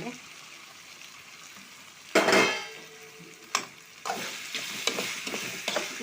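Okra frying in a pan gives a soft, steady sizzle, broken by a few louder bursts of stirring and scraping.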